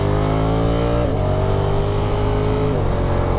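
A 2022 Honda NT1100 motorcycle engine revs hard and high, a loud continuous droning roar that climbs in pitch and dips briefly as gears change, heard close up while riding.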